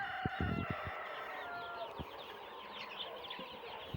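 Sonali super hybrid commercial chickens inside a locked poultry house in the afternoon make a dense chorus of soft peeping and chirping calls, with a few faint knocks and no talking.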